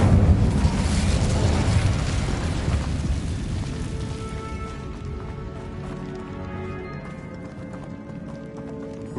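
An Incendio fire spell goes off in a video game with a loud roaring burst of flame. The roar trails into a softer rumble with crackling over several seconds.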